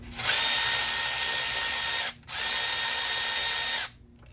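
Power tool whirring in two sustained bursts with a short gap between, loud and close, while removing a T12 star bolt on a 2003–06 Mercedes E320 (W211) during secondary air injection troubleshooting.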